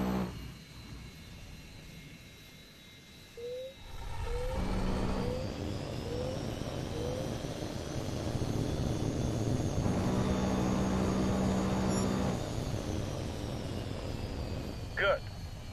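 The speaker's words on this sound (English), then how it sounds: "There's an H.A.W.X plane flying a basic patrol circuit in the training area." Jet fighter engine roar from the Tom Clancy's HAWX 2 video game, a steady loud whine and rumble that swells in the middle and runs beneath a spoken voice.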